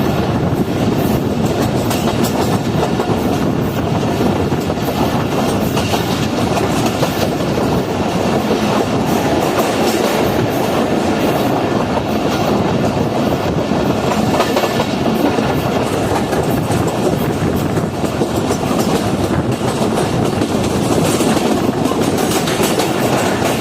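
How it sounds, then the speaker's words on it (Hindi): The Karakoram Express rolls into Rohri Junction railway station, a loud, close, steady rumble of wheels and carriages with rhythmic clacking throughout. "पूरे 10 बजे हमारी ट्रेन है वो एंटर हो रही है रोड़ी जंक्शन रेलवे स्टेशन के"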